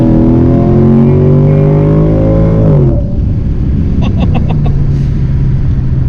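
A supercharged Mercedes CL55 AMG engine revs loudly with a rising exhaust note, then drops back to a deep steady idle rumble, close and without talk.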